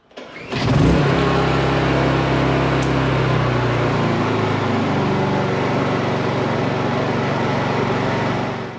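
A Honda portable generator starts up and settles into a steady, loud running hum with a constant low engine drone, close by and with no talk.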